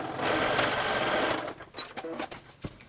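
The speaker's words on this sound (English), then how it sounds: "switch back to that lightning bolt stitch, and I'm going to close up my gap here" A domestic sewing machine runs a lightning bolt stitch around a sweatpants cuff stretched over the free arm, a steady close whir for about a second and a half before it breaks into short stop-start bursts.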